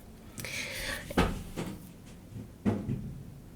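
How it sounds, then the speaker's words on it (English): A package thrown against an apartment door out in the hallway, heard as two sharp, fairly loud thuds about a second and a half apart, with faint knocking and rustling between them and no talking. "Sounds like he just threw something at someone's door."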